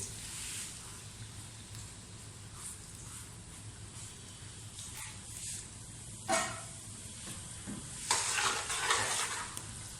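Finely chopped onion frying in oil for a dhaba-style daal channa, a steady sizzle throughout with occasional louder bursts and stirring scrapes near the end.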